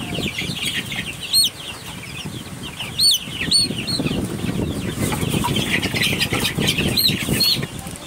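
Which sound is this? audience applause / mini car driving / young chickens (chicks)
young chickens (chicks)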